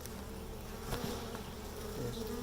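Honey bees buzz steadily around a Flow Hive during installation, a close, continuous insect drone with no talking.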